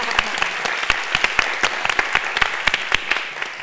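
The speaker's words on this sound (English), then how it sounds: "Let's give them a round of applause." An audience claps steadily, a dense patter of many hands with no one speaking over it.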